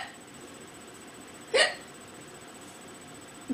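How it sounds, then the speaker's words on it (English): A single sharp hiccup from a nearby person stands out midway against a quiet background, followed by a faint trailing sound at the very end. "You're just stealing my hiccups from me."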